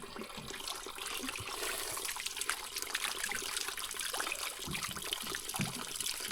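Clear water flowing through a rural valley, a soft continuous trickle and gurgle heard up close and fairly quiet, with no talking.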